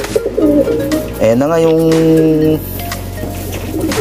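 Pigeons coo in a loud, close run of rolling, throaty calls near a loft, while someone talks over them partway through.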